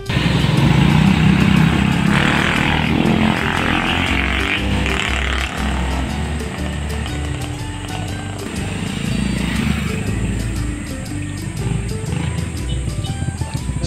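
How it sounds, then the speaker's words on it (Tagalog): A Rusi Gala motorcycle engine runs during a test ride, a continuous droning hum with shifting revs and wind noise, close and fairly loud throughout with no talking. "So dito pinapatest drive muna sa akin ni Kuya yung motor."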